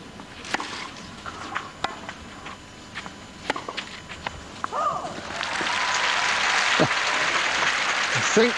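Tennis crowd at the 1999 French Open final between Steffi Graf and Martina Hingis, with sparse scattered claps early, then a loud sustained burst of applause filling the court after Graf's first point.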